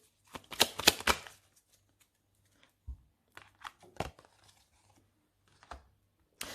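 Tarot cards handled on a table, one laid over another: a cluster of close, dry papery shuffles and slaps, then scattered single soft taps and rustles amid quiet.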